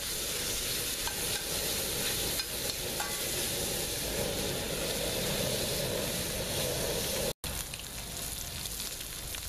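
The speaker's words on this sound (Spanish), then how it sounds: "Movemos constantemente para que no se peguen mucho en el sartén." Meat pieces sizzle steadily in a frying pan and are stirred constantly, giving a dense continuous crackle and hiss with no talking.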